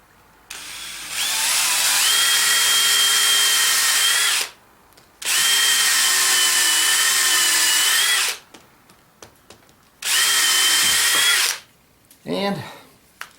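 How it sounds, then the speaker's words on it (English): A power drill bores a hole straight through a piece of wood in three loud, sustained bursts with short pauses between, followed by a brief squeaky rattle at the end. "drill a hole all the way through right there"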